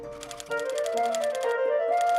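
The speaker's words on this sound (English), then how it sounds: "You type things in and type things back." Typing on a computer terminal, a fast run of sharp mechanical keystrokes clattering steadily and close with a faint tonal hum underneath, no voices.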